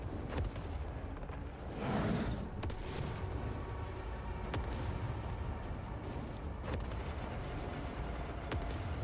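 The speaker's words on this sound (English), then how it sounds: "in all reality, you just gotta shoot the cannon, right?" Distant cannon fire in the video game Crimson Desert: a muffled boom followed by scattered sharp cracks under a dense, rumbling battle din.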